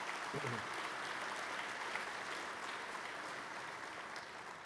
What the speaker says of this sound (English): All right, let's give them a big round of applause.